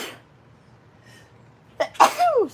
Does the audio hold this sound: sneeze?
yes